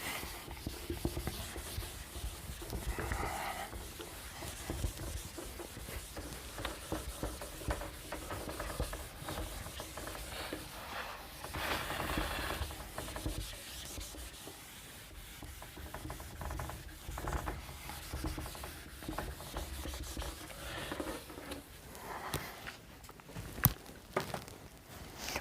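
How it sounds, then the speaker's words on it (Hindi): A teacher erases writing from a classroom board during a physics lesson, making a steady, close scrubbing and rubbing noise that continues with little pause for about 25 seconds, with a few faint knocks and no talking. "तो ये रब कर लेता हूं मैं।"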